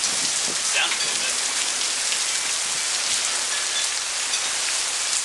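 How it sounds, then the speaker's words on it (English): Hail falls with heavy rain during a hailstorm, a dense, continuous patter and hiss on surfaces with a few sharper close impacts early on, steady and loud throughout. "This is the first hailstorm I've ever seen."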